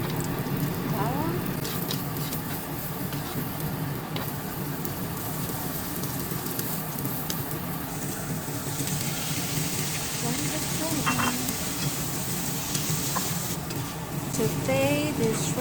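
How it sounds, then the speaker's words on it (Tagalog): Garlic sautés in a pan, a steady close sizzle and crackle of frying with occasional stirring scrapes, and a voice speaking now and then over it. "igisa na natin ang dapat igisa"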